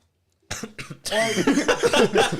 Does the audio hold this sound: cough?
yes